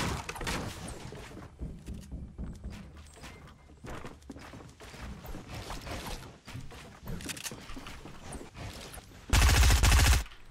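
Gunshots in a Fortnite Battle Royale match, rapid bursts of sharp shots in irregular volleys that stop and restart, closing with a loud dense barrage near the end.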